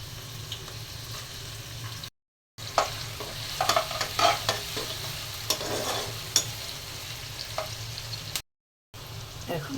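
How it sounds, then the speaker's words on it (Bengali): Beef and chopped onion fry in hot oil with a steady low sizzle, broken by scraping stir strokes and clatters of a spoon against the pan, heard close and alone. "এখন তেল দিয়ে দিচ্ছি মাংস রান্না করার জন্য। দিয়ে দিচ্ছি পেঁয়াজ কুচি"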